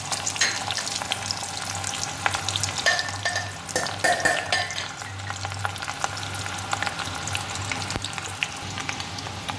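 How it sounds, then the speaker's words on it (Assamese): Onions dropped into hot oil for an Assamese Malabar spinach charchari with mustard. A loud, continuous close sizzle crackles throughout, with occasional stirring clinks and no talking. "তো তেলখিনি দি দিলোঁ, আমাৰ তেল গৰম হৈ গ'ল। এতিয়া আমি পিঁয়াজখিনি দি দিলোঁ।"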